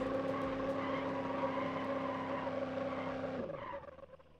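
In BeamNG Drive, a locked trailer wheel skids behind a Lamborghini towing a trailer. It makes a steady, loud droning screech with an engine-like tone that cuts off abruptly near the end, then fades out.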